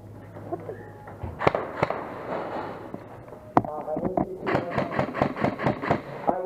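Airsoft guns fire during an outdoor airsoft game: scattered single sharp cracks at first, then a quick run of rapid repeated shots near the end, with players talking amid ambient field noise.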